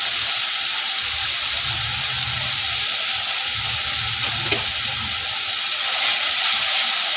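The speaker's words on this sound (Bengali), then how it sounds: "মশলাটা ভালো করে ভাজতে থাকবো" Turmeric and coriander powder frying in oil for a soybean curry make a loud, continuous sizzle up close, with a low rumble of stirring underneath and no talking.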